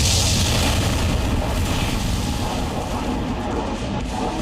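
A downed drone crashes into hills and explodes, heard as a loud, sustained rumbling roar of blast noise that fills the whole stretch and slowly settles.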